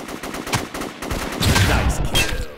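Rapid gunfire in the online shooter Offensive Combat, a burst of loud overlapping shots with sharp cracks and a denser barrage in the middle.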